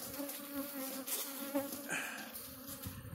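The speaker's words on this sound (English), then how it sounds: "I pushed the bees down, but they're coming right back up again" Honeybees buzzing steadily up close at an open hive, a dense droning hum with no voices over it.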